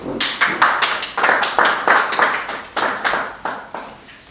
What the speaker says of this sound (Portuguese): Aplauso da Nadine.